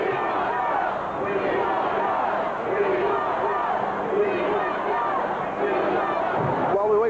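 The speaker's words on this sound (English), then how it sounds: "the chants of "We Want Doug" are already roaring through this capacity" Dense crowd at a Washington Redskins Super Bowl XXII victory parade, a steady roar of many voices chanting and shouting, continuous and loud throughout.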